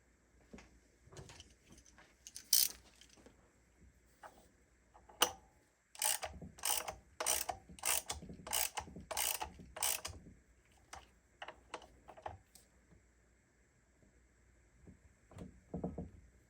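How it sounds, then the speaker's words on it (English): Screws tightened back down on a Honda XR200 motorcycle engine during a head install, giving a close run of quick ratcheting clicks in a steady burst, with sparser mechanical clicks and taps before and after. "Tighten these screws back down."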